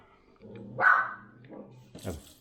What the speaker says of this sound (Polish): już nie szczekaj tam, proszę Cię